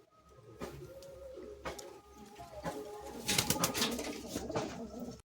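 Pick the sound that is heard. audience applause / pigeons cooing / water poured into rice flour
pigeons cooing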